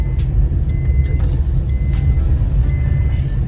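A car is driven with a steady low engine and road rumble, while several sharp ticks and short electronic beeps sound over it.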